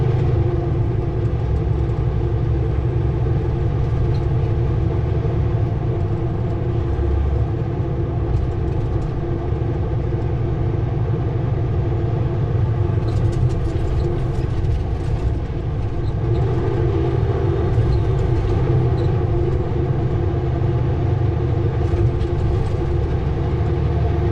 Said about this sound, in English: If you're hearing the shifts in between, that's just direct to over. Basically half gears.